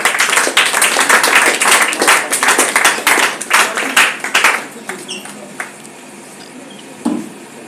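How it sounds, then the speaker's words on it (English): A church youth audience claps in a dense burst of applause for about five seconds, which then thins out to scattered claps and fades, with one last clap near the end. "Let's give a clap of applause to God."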